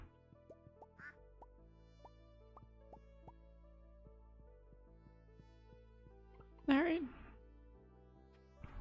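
Ducks quack in the Stardew Valley farming game, a short, fairly loud burst of quacking over soft, steady background music with plucked notes.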